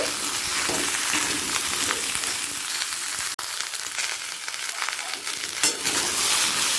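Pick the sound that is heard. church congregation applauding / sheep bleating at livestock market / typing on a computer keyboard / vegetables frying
vegetables frying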